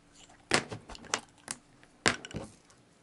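Fountain pen barrel being untwisted by hand, giving a few small close clicks and scrapes spaced through a quiet moment.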